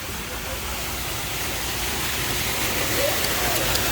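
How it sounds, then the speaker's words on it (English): Steady rushing water fills a volcano cave hole at a mini golf course, a dense continuous wash of noise that stays even and fairly loud throughout. "there's a lot of water inside the cave hole here"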